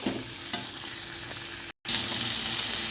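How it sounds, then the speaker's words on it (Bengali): Garlic paste and black cumin frying in a pan, a steady close sizzle with a few stirring scrapes and a brief silent cut. "সবগুলোকে একসাথে খুব ভালো করে একদম লাল হওয়া অবধি ভেজে নেব।"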